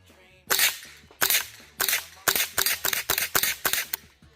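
Suppressed .22 gunfire from a Taurus TX22 pistol fitted with a HUXWRX Flow 22 Ti suppressor, firing supersonic rounds: about nine sharp, close cracks, the first few spaced apart and the rest in a quicker, steady string.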